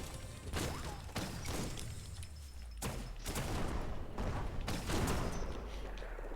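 Turret gunfire in a video game: repeated sharp bursts of shots and impacts at irregular intervals, fairly loud and close, with a steady low hum beneath.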